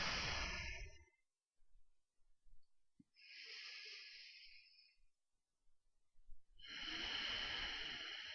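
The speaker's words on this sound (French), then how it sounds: "On va prendre 3 grandes et profondes respirations." Three long, deep breaths taken slowly during a lying-down lateral stretching routine, each a breathy hiss of air in or out separated by short silences, close and quiet.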